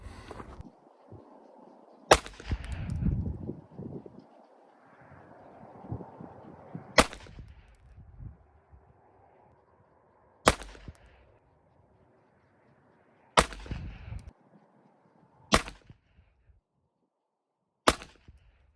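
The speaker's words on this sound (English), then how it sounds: "So we'll do one more 3-shot group with each type of ammo." Sharp gunshots from a Smith and Wesson 422 .22 LR pistol fired at a range, six or seven distinct cracks spaced a few seconds apart with quiet gaps and faint background noise between them.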